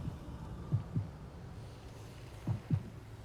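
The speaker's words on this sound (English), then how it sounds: "I'm sensing heartbeats." Sensed heartbeats in the vampire game Vampire the Masquerade Bloodlines 2: two pairs of soft, low double thumps, well spaced and fairly quiet over a faint ambient hum.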